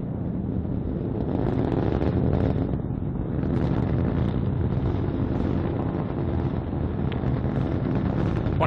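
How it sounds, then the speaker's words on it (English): Deep, continuous roar of a Delta IV rocket climbing after liftoff carrying the GOES-S weather satellite, a dense low rumble that stays loud and steady. "liftoff of the Delta IV rocket"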